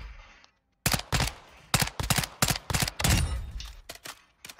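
Gunfire rings out on a firing range in the video game Call of Duty: Modern Warfare II, a run of loud, sharp bursts of rapid shots with short gaps between them, starting after a brief quiet moment.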